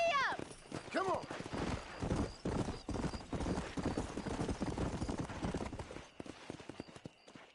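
Horse hooves clip-clop at a steady galloping rhythm in the Red Dead Redemption video game, close and loud, with a whinny near the start and a voice urging the horse on.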